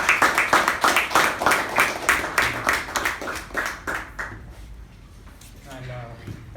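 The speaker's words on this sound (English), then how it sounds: "with a big round of applause, please welcome our president," An audience at a Toastmasters club meeting claps steadily for a few seconds to welcome the club president, the applause fading out into near silence.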